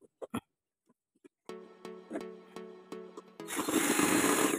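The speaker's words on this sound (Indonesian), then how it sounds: "kita buka pakai obeng elektrik atau bur tanpa kabel" Cordless battery-powered electric drill used as a screwdriver to open a device, a few short clicks followed by a steady whirring motor run that ends in a louder, harsher burst, close and alone.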